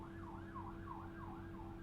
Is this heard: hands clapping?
no